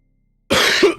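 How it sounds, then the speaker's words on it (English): After a moment of silence, a person with the flu lets out one harsh, close cough that ends in a brief throat-clearing rasp. "I was able to mute the first part of that cough and then the second."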